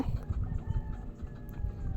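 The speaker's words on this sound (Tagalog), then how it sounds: "Habang nakikinig po kami sa mga huni ng mga ibon." Chickens clucking close by in a rural yard, a steady dense stretch of fowl calls low and loud throughout, with no talking.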